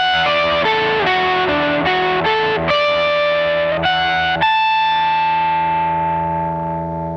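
Electric guitar with a distorted, effects-heavy tone playing a short jazz lick over a minor key, a quick run of loud sustained notes ending on a long ringing note that slowly fades.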